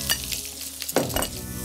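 Strawberries, cherries and sour cherries with cream and powdered sugar sizzle gently as they warm in a pan, a steady crackle broken by a few stirring scrapes and light clinks close by.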